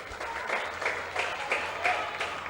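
Loud round of applause from the crowd at a Sri Lankan club football match between Java Lane SC and Police SC, steady broadband clapping with swelling peaks throughout.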